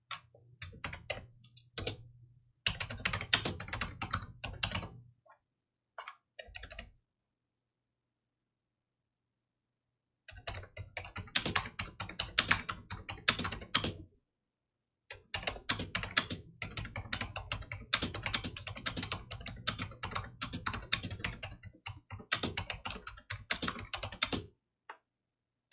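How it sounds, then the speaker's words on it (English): Rapid clattering keystrokes on a computer keyboard in irregular bursts, with several pauses of silence between runs of typing, close and clear with no talking. "I'm going to type a message."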